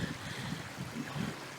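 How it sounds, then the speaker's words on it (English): Pond or tank overflowing heavily, its water running down through a food forest: a soft, steady trickling and gurgling flow with low burbling swells, faint and continuous, with no voices. "pond or tank is overflowing significantly water and coming down through the food forest"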